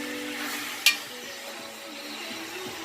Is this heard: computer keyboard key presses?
no